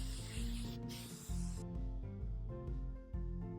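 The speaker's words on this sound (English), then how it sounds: "Now basically you just want to spray this section down so it covers the nape." Hair spray hisses onto a puffy Vegeta cosplay wig from Dragon Ball Z in a soft, steady burst lasting just over a second, then stops, leaving faint rubbing and handling sounds.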